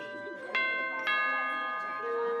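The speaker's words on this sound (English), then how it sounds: "the doorbell rang" A doorbell chimes with two struck bell tones about half a second apart, each ringing on with sustained harmonic overtones, then a softer tone near the end, clear and fairly close over a quiet background.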